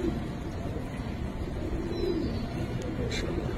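A pair of Giribaz silver pigeons coo softly in low, brief phrases, half-buried in a steady background hiss.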